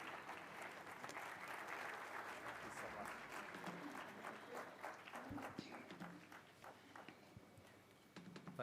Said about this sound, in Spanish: ha escuchado usted el aplauso con el que se recibió su llamado a la acción